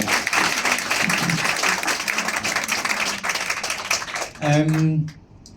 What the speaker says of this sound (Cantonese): 咁我哋俾啲掌聲，我哋第一次嚟先好